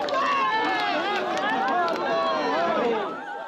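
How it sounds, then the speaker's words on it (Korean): Citizens cheer at an outdoor political campaign event in Anyang, South Korea, as a party leader in a red baseball jacket waves: a dense, continuous wall of overlapping excited voices that stays loud, easing slightly at the end. "빨간색 야구 점퍼를 입은 한동훈 위원장이 손을 흔들자 시민들이 환호합니다."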